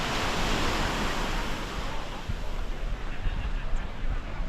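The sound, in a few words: ocean waves and surf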